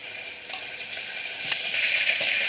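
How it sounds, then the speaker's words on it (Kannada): Oil heating in a pan sizzles with a steady close hiss, a few soft crackles and ticks rising slightly in loudness partway through. "ಓಕೆ, ಇವಾಗ ಎಣ್ಣೆನ ಕಾಯೋಕೆ ಇಟ್ಟಿದ್ದೀನಿ"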